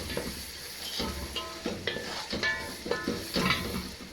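Tomato and peanut soup ingredients being stirred in a cooking pot, with a soft sizzle under repeated scraping strokes of the spoon and occasional clinks, steady and close.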